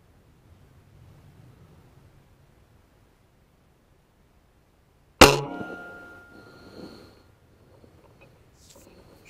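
A Weihrauch HW77K air rifle fires at a squirrel outdoors, a single sharp crack that breaks a near-silent background and rings off briefly with a fading metallic tail.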